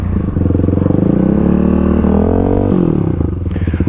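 Kawasaki KLX351 dirt bike on new Tusk Dsport tires riding and braking in a gravel lot, a loud close single-cylinder engine pulsing steadily, pitch dipping and rising as it slows and accelerates again.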